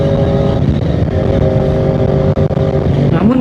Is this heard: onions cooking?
no